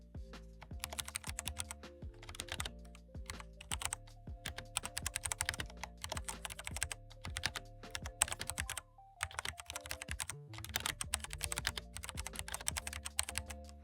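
Rapid typing on a Ducky One 3 TKL mechanical keyboard with foam under the plate, crisp close clacks in quick bursts with a few brief pauses, no voices.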